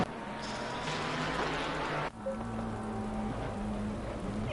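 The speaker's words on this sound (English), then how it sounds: "really the rain doesn't seem to be stopping soon" Steady wet hiss of heavy rain during a sim race at the Zolder circuit, a dense continuous wash with a faint engine drone underneath and no voices.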